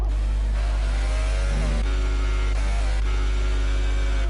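A Formula 1 car engine in the racing game F1 2018, stuck in gear, drones at a steady high pitch, holding one note without shifting up, with brief dips and jumps in tone.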